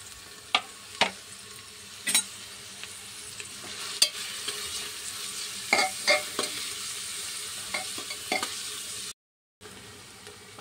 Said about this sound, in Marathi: आता मी याच्यामध्ये मस्त कांदा टाकून घेते आणि छान हा कांदा आपण आता परतून घ्यायचा आहे